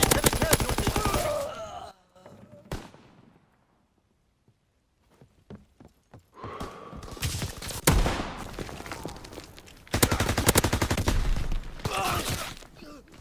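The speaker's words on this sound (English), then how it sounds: "He shot me in the foot with the sniper" Bursts of rapid gunfire from the World War II shooter game Call of Duty WWII, loud dense volleys at the start and again later, broken by a quieter stretch of scattered shots and game noise.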